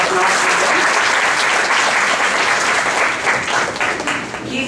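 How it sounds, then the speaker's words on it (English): A college convocation audience gives a big round of applause, dense even clapping that holds steady before easing slightly near the end. "A very big round of applause for him."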